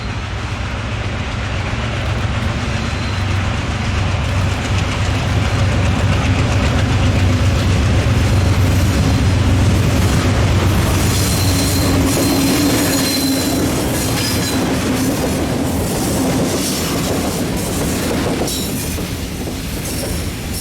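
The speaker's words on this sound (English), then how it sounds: "train PO74 becomes PO75 and returns to Mount Pocono light" An ALCO diesel locomotive running light power back toward Mount Pocono on the Delaware Lackawanna, its engine a steady low rumble under wheel noise and squealing on the rails, loud and continuous throughout.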